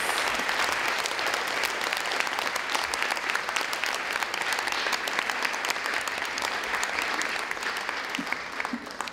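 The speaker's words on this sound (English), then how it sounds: "can we give another big round of applause to ourselves?" Steady, dense applause from a conference audience at an NGO forum closing session, filling the whole stretch without a break and with no talking over it.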